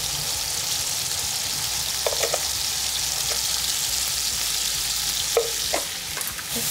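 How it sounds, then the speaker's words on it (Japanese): Clams stir-fried in a pan for a Japanese-style peperoncino seasoned with yuzu pepper and kelp tea, a continuous loud sizzle with occasional scraping and stirring clicks of a utensil, no voices. "そして炒めときますね"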